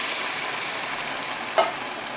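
Onions and tomatoes sauté in a tablespoon of butter and a tablespoon of olive oil, producing a steady close sizzle with one brief stir or clink partway through. No one speaks.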